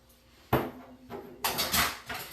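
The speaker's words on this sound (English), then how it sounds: "So just give it a good whisk, just like that." Flour whisked in a bowl for cowboy cookie dough, heard as short bursts of scraping and tapping, one sharp stroke followed by a quicker run of rhythmic strokes, close and fairly loud.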